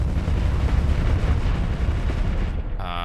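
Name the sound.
ship weapons firing and explosions in video game Starsector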